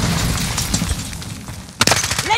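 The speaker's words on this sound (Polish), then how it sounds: "Rzucam granat odłamkowy." A frag grenade in Call of Duty bursts with a sharp, loud crack late in the clip, following a stretch of dense rumbling battle noise, with no voices during the blast.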